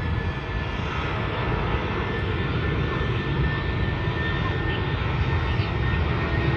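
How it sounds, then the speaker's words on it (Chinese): Airbus A320 jet engines roar continuously and loudly as the airliner accelerates down the runway on its takeoff roll, a dense, unbroken rumble with no pauses. "来，咱听一下发动机的轰鸣声，准备助跑加速。"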